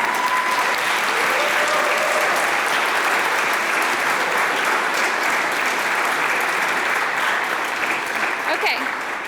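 An audience at a physician assistant studies white coat ceremony applauds loudly and steadily, with faint voices under the clapping.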